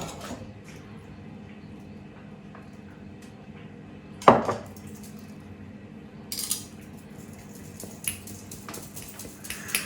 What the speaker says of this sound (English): she's brutally beating that poor sieve